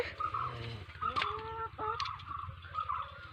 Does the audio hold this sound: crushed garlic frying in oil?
no